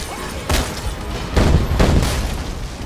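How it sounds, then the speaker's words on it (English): Fireworks explode in the video game Dead Rising 3: three heavy booms land about a second apart, each a broad burst that rings out over a busy game background. "Why are there so many fireworks in here?"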